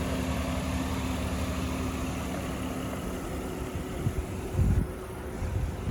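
A 2020 Acura MDX SH-AWD engine idles smoothly and steadily with a low continuous hum, nearby, with a few soft bumps toward the end.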